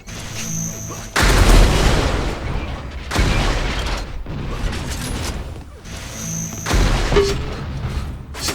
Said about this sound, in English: Nicely placed rocket in the meantime.